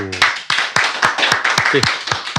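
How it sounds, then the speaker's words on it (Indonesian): Audience in an Indonesian comedy show breaks into a short burst of clapping, sharp individual claps ringing out over a voice speaking throughout. "Jangan tepuk tangan dulu"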